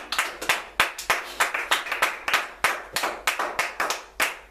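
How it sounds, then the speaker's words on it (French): A church congregation claps loudly and fast in a steady rhythm to acclaim the word of God, many hands close by, with no speech over it. "Acclamons très fort la parole de Dieu."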